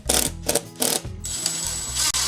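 A power driver sinks 1-inch screws into the top shelf of a wooden clamp rack, giving short whirring, ratcheting bursts followed by a steadier mechanical drone, close and fairly loud.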